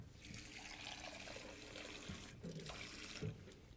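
Tepid water pours steadily into a sourdough starter, a soft close trickling and splashing that runs for a few seconds with small gurgles near the end.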